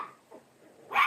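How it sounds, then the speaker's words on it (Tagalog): A noisy dog gives a single sharp bark near the end after a quieter whimper-like sound, fairly close and alone. "maingay aso, nadidistract ako."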